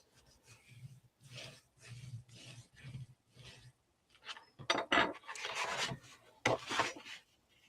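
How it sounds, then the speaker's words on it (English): Paper fold on a file-folder scrapbook album being burnished down by hand, a series of soft rubbing and scraping strokes up close, growing louder and faster toward the end. "burnish it down"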